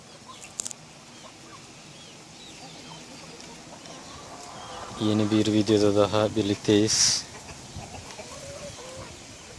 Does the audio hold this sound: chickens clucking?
yes